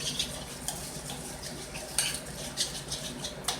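Rice Krispies being stirred into melted chocolate in a bowl, with a steady crackly scraping and several sharp clinks of the spoon against the dish, close and without talk.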